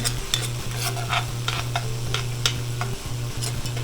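Vegetables sweating in a pot for brisket chili give a soft, steady sizzle with occasional stirring scrapes, close and fairly quiet, under a constant low hum.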